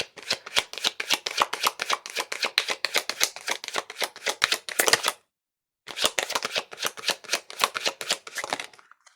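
Tarot cards being shuffled by hand, a steady run of crisp riffling flicks at close range, pausing briefly midway before resuming with the same quick rhythm; no voices.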